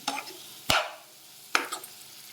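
Fried cauliflower pieces being stirred into rice in a pan for gobi fried rice, heard as a few separate scraping, clattering stirs spaced about a second apart, fairly close, with no one talking.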